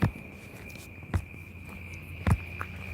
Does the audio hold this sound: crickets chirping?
yes